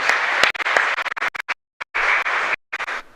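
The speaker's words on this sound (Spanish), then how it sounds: "Y el fuerte aplauso para todos ustedes" A congregation claps at the end of Mass in the chapel of Nuestra Señora de Betharran in Asunción: dense, crackling bursts of clapping broken by short silent gaps.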